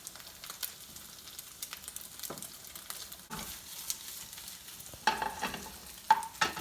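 Chorizo risotto being stirred in a pan as broth goes in, giving a soft, steady scraping and low sizzle with a few sharper clinks and splashes near the end, no voices.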